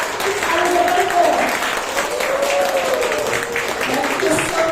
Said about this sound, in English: please give a warm round of applause to our speaker, Ms. Elizabeth Ho.